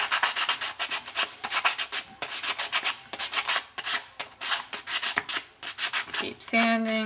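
Rapid, rhythmic abrasive scraping strokes of sanding on sheet metal for jewelry making, repeated steadily back and forth, close and fairly loud, with no talking.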